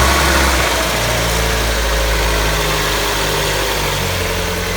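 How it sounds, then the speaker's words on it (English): The engine of an NB Mazda Miata, just back together after a valve cover gasket change, runs at a steady, loud idle with a constant low rumble and vibration, close by and without talk. "So he's about to start the car."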